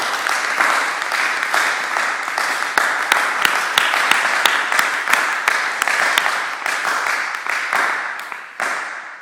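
A church congregation applauding to acclaim Jesus, loud sustained clapping from many hands that continues evenly throughout and tapers slightly at the end.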